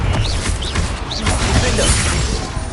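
Confringo fire spell blasting in the Hogwarts Legacy video game, a dense, loud, continuous crackling burst with smashing impacts and shimmering high whooshes, steady for about three seconds.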